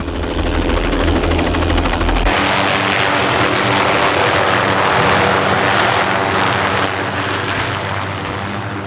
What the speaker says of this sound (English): Within 5 minutes, the helicopter was on the scene.